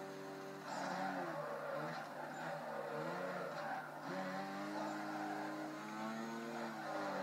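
A car drifting in Need for Speed Carbon, with a sustained, wavering tire squeal over a droning engine that rises and falls through the whole corner.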